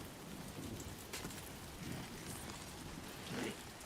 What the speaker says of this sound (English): Rain in Australia?